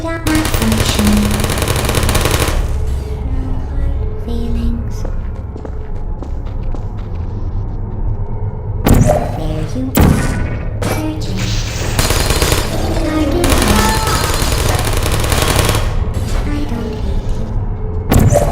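Turret gunfire from the video game Portal, rapid bursts of automatic fire rattling over a dense game soundscape with thuds and footsteps, loud and close throughout.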